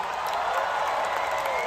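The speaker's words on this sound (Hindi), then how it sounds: "एक बार आपके लिए जोरदार तालियां हो जाए" An audience claps steadily at a live comedy show, a dense, even wash of applause that holds for the whole short stretch without a break.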